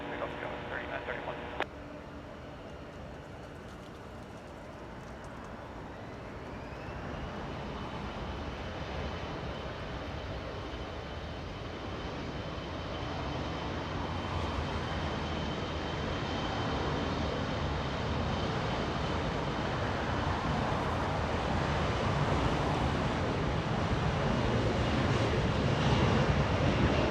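An airliner takes off from runway 24 left at Los Angeles International Airport, a jet roar building steadily from moderate to loud, with a brief radio voice at the start.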